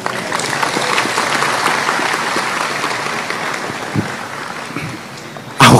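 A crowd at an Islamic religious gathering (pengajian) claps in a dense, sustained burst that gradually thins out, with a sharp loud thump at the very end.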